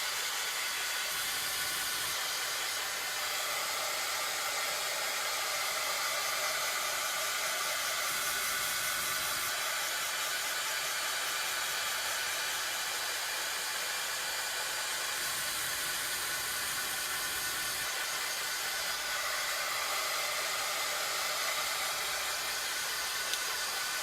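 A hair dryer blows steadily to dry paint on a DIY dog-print sign, a loud continuous airy rush close by that holds almost unchanged from start to finish.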